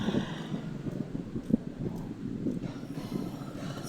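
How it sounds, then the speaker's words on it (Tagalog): Strong, steady wind rushes and buffets the microphone on a hot summer morning, a low, rumbling roar with gusty surges throughout and no voices. "Super lakas ng hangin."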